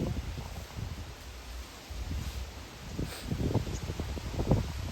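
Outdoor wind gusts buffet the microphone in low rumbling bursts, with a steady rushing hiss and faint rustling throughout.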